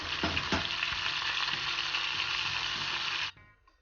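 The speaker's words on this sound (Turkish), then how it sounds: "Yağ çok iyi kızmış artık diğer ciğerleri de ilave edebiliriz." Loud, steady sizzling of Edirne-style thinly sliced liver frying in hot oil, with a few clinks at the start, cutting off abruptly near the end.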